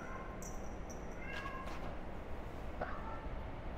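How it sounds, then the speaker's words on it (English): Cat meowing in a cat cafe in Kuala Lumpur, a couple of faint high mews over a steady background hiss and room noise. "spend time with cats"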